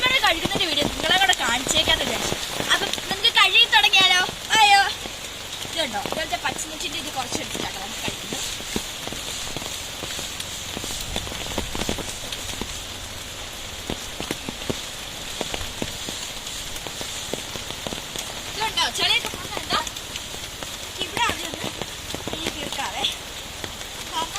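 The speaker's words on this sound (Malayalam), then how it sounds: "നല്ല രീതിയിൽ മഴ പെയ്യുന്ന സമയത്ത്" Steady rain patters on a surface, with people talking over it for much of the time.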